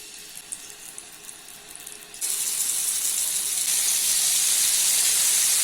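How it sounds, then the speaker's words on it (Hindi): Masala-coated fish pieces going one by one into hot oil in a pan, with a quiet start before a loud, steady hiss of frying bursts in and keeps going. "अभी इसमें एक एक करके फिश के पीसेस ऐड कर लेना है"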